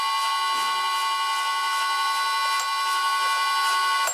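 A drill bit bores into hard material from the tailstock of a vintage lathe, producing a continuous high metallic whine with dense tonal overtones, close and steady with no talking.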